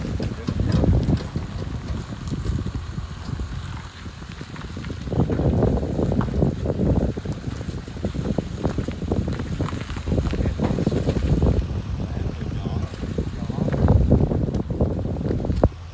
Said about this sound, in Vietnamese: Hơi gió bữa nay, hơi gió mọi người.